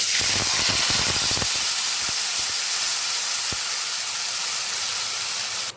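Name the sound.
ground spice paste added to hot oil sizzling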